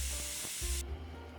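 Steam rushes hissing from a pressure cooker as its pressure is let out by hand while sambar cooks, a loud, steady spray that cuts off abruptly partway through, leaving a low hum.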